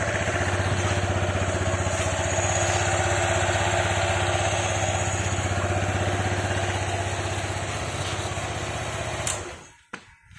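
A flood-damaged Honda ADV 160 scooter idles steadily up close with a constant buzzing drone, then cuts off near the end, followed by a few faint clicks.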